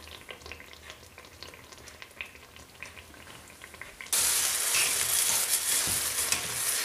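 Kaiserschmarrn batter cooks in a pan over moderate heat, first with quiet scattered crackles and stirring scrapes, then a sudden loud, steady sizzle of frying that carries on to the end.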